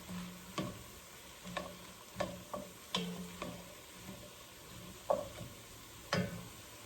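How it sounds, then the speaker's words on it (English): Garlic stirred in a soup pot, a soft sizzle running underneath while a spoon scrapes and clinks against the pot in irregular strokes, each one short and fairly faint. "we're gonna just stir the garlic around and let that get fragrant"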